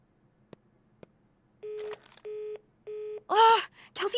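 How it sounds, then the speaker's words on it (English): In a cartoon, a phone call fails to connect because the phone is off: faint taps, a run of steady beeping tones, then a rising and falling electronic warble. "Ugh, Kelsey's phone is off."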